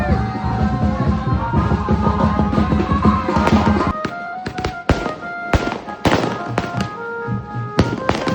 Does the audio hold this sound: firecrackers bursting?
yes